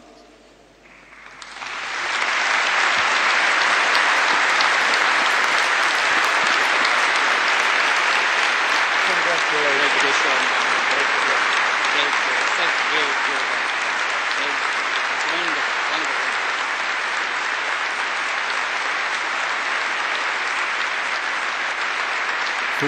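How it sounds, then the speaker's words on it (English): A large audience at a Grenoble ceremony honouring the 2006 Nobel Peace Prize laureate breaks into loud, sustained applause that rises quickly and carries on steadily for about twenty seconds. "Que vos applaudissements couvrent ceux de ce film."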